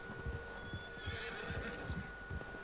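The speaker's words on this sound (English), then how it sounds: "Horse is spooked by the bear" Horse in Red Dead Redemption 2 spooked by a grizzly bear, neighing and whinnying loudly while hooves clip-clop and stamp in a nervous rhythm underneath.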